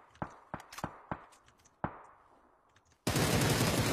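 Single sharp gunshots crack out one by one at uneven intervals in a PUBG gunfight, some trailing off with echo, before a loud, continuous burst of automatic fire takes over close by.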